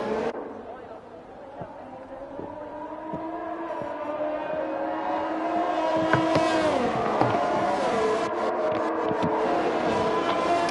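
Race cars on the formation lap at Monza in a racing game, engines droning and shifting pitch as they roll past, with occasional tyre noise, building louder toward the end under steady commentary.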